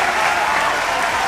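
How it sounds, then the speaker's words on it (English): A short burst of steady hand clapping from a small studio audience greets an interview guest on a real estate podcast, sustained and fairly loud throughout with no talking over it. "I just want to give her a clap."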